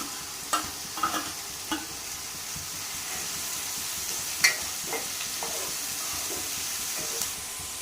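Carrots, beans, onion and tomato cook in a pan for wheat upma, a soft steady sizzle punctuated by several light spatula taps and scrapes scattered throughout.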